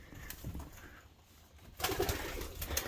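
Racing pigeons coo softly at a distance, growing louder and busier toward the end, with faint rustling and movement around them.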